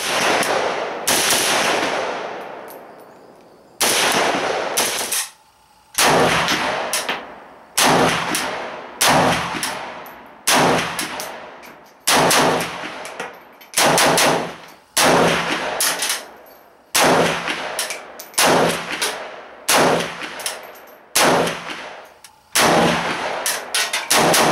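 Arsenal SGL 21 AK rifle fitted with an AK74-style muzzle brake firing about seventeen loud, sharp shots, mostly evenly spaced single cracks, each followed by a short ringing decay outdoors.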